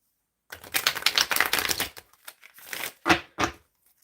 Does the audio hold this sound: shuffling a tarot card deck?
yes